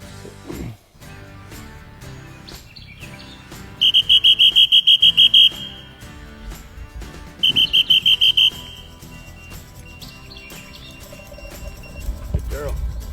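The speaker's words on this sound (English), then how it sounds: "Hunter's gonna be blowing the whistle." Dog training whistle blown in two bursts of rapid, evenly pulsed shrill blasts during hunting-dog whistle training, loud and close, separated by quieter stretches with faint background sounds.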